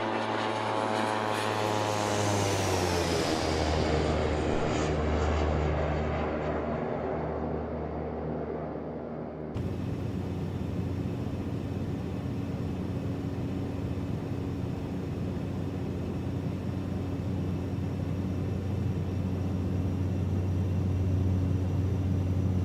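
A Blacksquare Caravan single-engine propeller plane in MSFS2024 drones continuously, its pitch sweeping upward at first before settling into a steady, even cabin hum.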